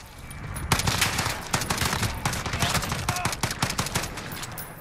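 Rapid full-auto bursts from the FAL OSW rifle, firing 7.62x51 NATO rounds in Call of Duty Modern Warfare, crack close and loud in a dense, steady stream of shots with brief pauses between bursts.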